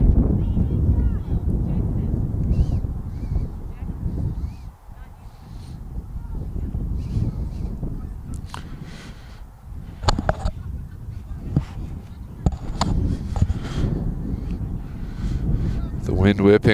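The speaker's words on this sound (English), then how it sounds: "The wind whipping." Gusty wind buffets the microphone at an outdoor under-15 youth soccer final, a steady low rumble running the whole time with faint shouts and crowd noise in the background.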